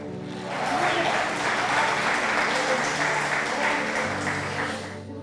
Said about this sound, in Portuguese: dê um glória a Deus, um aplauso ao Senhor